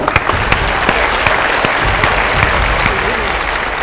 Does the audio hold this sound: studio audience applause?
yes